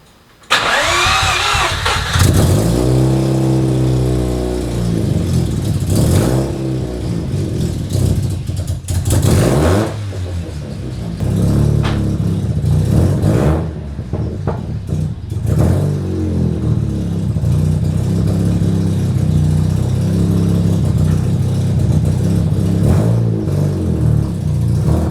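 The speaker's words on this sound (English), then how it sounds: "We're gonna start it up now." A Mazda RX7 rotary engine cranks and fires up inside a garage, then settles into a loud, steady run with repeated revs rising and falling close by, with no talk over it.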